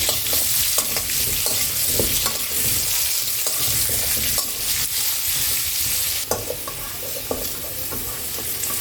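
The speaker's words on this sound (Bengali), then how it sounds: "আলুগুলো খুব হালকা করে ভেজে নেবো" Potato pieces fry lightly in hot oil tinged with turmeric, a steady dense sizzle with frequent stirring scrapes, close and fairly loud.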